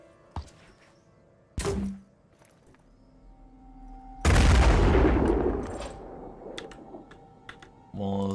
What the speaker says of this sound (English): This is an effective use of grenades.